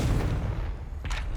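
The Confringo blasting spell goes off in Hogwarts Legacy as a loud, rumbling boom that fades, then a second bright burst about a second later, with no talk over it.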